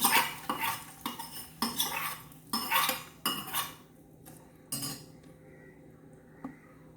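Mustard-seed tempering tipped into a pot of pineapple pulissery, a burst of rapid metallic spoon clatters and scrapes against the vessel, then a couple of softer isolated clinks before it falls quiet.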